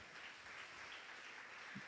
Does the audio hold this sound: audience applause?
yes